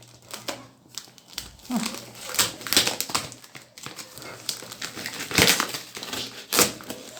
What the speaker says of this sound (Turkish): bıçakla açmak zorundayım